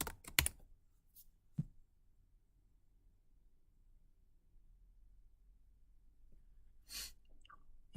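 A few scattered computer keyboard keystrokes are tapped while writing code in the Neovim editor, sounding as faint isolated clicks separated by long quiet gaps.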